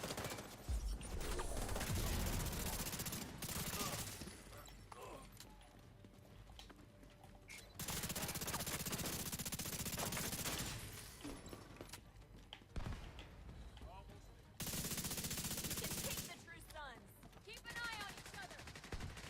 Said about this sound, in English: they're shooting at a turret